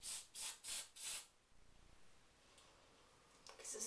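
Hairspray from an aerosol can is sprayed onto the outside of curled hair in four quick, close hissing bursts, followed by faint rustling and a soft click near the end.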